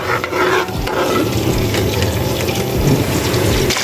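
Cumin and black cardamom are stirred in hot ghee for Lahori mutton gobhi, a loud, continuous scraping and rattling of spoon against pan with a steady sizzle underneath, close and without talk.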